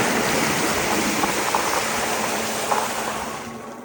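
Strong wind and rain from a powerful thunderstorm roar continuously, a broad rushing hiss that holds steady and then eases slightly toward the end.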